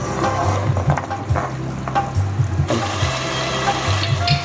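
Mutton korma sizzling and frying in a pot on a stove over high heat, a continuous crackling hiss with intermittent stirring clatter, close and loud.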